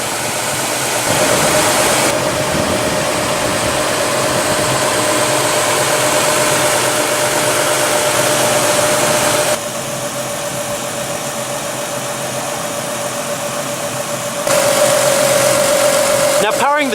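A Lexus GS 350 F Sport's 3.5-liter V6 runs steadily at an auto show, a continuous close engine drone with slight level shifts throughout.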